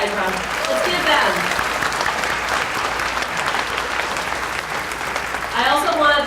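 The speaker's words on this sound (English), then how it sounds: "let's give them a round of applause." Audience applause at a naturalization ceremony, a steady wash of many hands clapping that holds for several seconds at moderate loudness, with a brief voice near the end.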